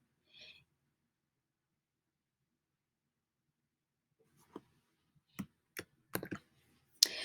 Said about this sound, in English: I'm going to click on my little Mote here.